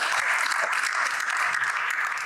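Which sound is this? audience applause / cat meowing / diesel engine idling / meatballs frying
audience applause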